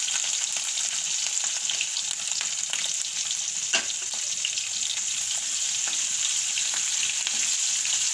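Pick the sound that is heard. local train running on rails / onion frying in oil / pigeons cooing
onion frying in oil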